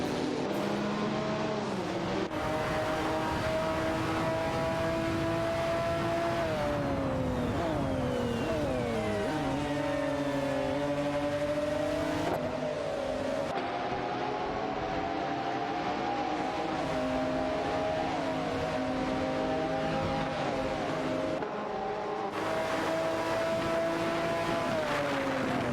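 Several race car engines drone and shift pitch continuously in an AI-driven racing video game, with steady harmonic whine rising and falling as cars accelerate and jostle, loud and unbroken for the whole stretch without voices.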